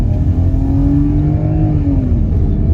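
An older car's engine revs hard under throttle, a steady loud roar with rising and falling harmonic tones held for nearly three seconds, close and continuous with no talking.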